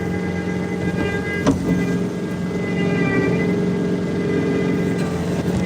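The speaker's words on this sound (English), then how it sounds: "I could listen to his truck and turbo whine all night" Truck engine running steadily in heavy Long Island snowstorm conditions, a continuous droning hum with faint high turbo whine tones layered over it and a brief sharp knock midway, fairly close and without any talk.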